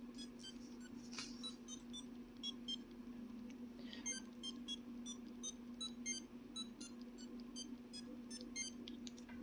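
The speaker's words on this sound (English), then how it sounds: "it looks like you can create your own custom alarm melody" A Pokemon Tamagotchi sounds a custom alarm melody: a run of short, thin electronic beep tones at varying pitches, quiet and close over a steady low hum.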